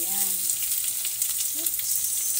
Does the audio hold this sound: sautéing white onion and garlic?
yes